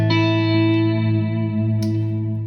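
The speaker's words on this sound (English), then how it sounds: "Ambient clean is just another long overdrive, or a long reverb rather." Clean electric guitar through a Line 6 Helix ambient clean preset, a sustained chord ringing with a long, lush reverb tail and a second soft strum partway through, alone with no voices.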